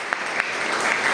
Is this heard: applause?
yes